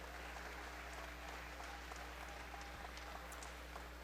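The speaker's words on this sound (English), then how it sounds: "Big round of applause for all our sponsors tonight." Crowd applause for sponsors at a women's MMA event, a continuous, dense clapping roar over a low electrical hum, steady and sustained throughout with no clear talk.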